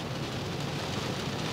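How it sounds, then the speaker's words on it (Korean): Steady rain falls continuously at close range, a dense even hiss of drops with no voices over it, heard on a day shortly after a taxi was washed. "세차만 하면 비가 오네요."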